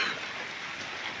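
Heavy rain pours in a Punjab village, a dense, steady hiss of falling water with no voices.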